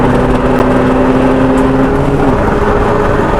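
Diesel Honda Accord Tourer estate, tuned to about 225 bhp, pulls hard on a race track. A loud, steady engine drone and road roar hold throughout with a faint rising tone, no voices.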